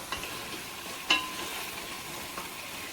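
Ingredients for seafood couscous sauté in a pan with a soft steady sizzle, broken by a few sharp clinks and scrapes of stirring, close and moderately quiet.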